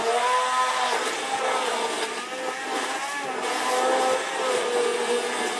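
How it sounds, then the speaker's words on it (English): A kitchen blender runs steadily for several seconds, whirring through cold milk and cream cheese for a savory cream mixture, loud and close with a continuous motor drone that dips briefly midway. "So I'm just going to blend that up."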